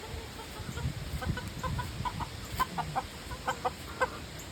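Ameraucana and gold spangled Appenzeller chickens clucking in a homestead coop, a scatter of soft close clucks and short calls over a low, busy background.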